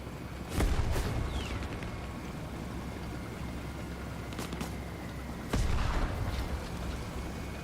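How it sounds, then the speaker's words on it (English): Distant explosions in the Vietnam-era shooter Hell Let Loose Vietnam, two heavy booms several seconds apart over a constant rumbling battlefield ambience with scattered sharp cracks. "Nice explosion coming in."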